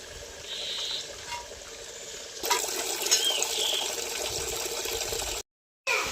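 Water poured out for cattle to drink at a rural home, a steady close trickling pour that grows a little fuller partway through, then cuts briefly to silence near the end.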